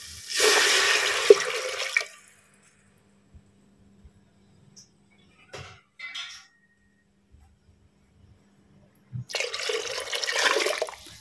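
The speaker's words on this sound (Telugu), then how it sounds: "నేను వాటర్ వేస్తాను, తర్వాత రైస్ వేస్తాను" Water poured into a cooking pot for matar pulao with sona masoori rice, a close splashing pour that is loud for about two seconds, followed by faint clinks and then a second pour at the end.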